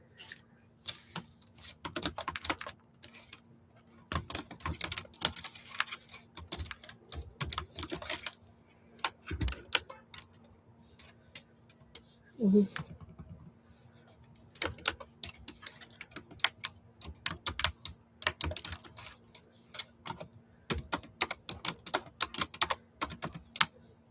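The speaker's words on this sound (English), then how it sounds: "I am also typing in what I'm showing." Typing on a computer keyboard during a virtual yard sale, a near, quiet stream of irregular key clicks in bursts with brief pauses, no voices.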